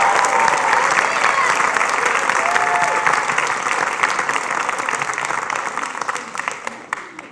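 A packed audience applauds at a high school graduation ceremony for more than 380 graduates of the Shelton School District; the clapping is dense and sustained, then gradually thins and softens toward the end.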